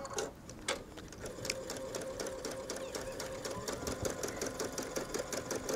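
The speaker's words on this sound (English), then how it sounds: "let's go ahead and stitch around these flowers" Embroidery sewing machine stitching around lace flowers on couture lace trim: a fast, steady mechanical chatter of needle strokes with regular clicking, close and continuous throughout.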